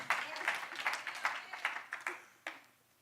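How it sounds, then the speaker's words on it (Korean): A church congregation gives a short round of applause during a Sunday sermon, a few scattered, fairly quiet bursts of clapping rather than a sustained ovation. "박수 한번 하시겠습니까?"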